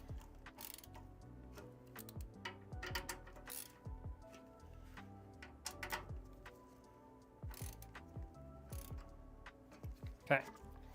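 Small screwdriver driving screws into PC case fans during a build, giving repeated close ratcheting clicks and light metallic ticks in short bursts, with scattered knocks of handling in between.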